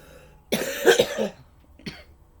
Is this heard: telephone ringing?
no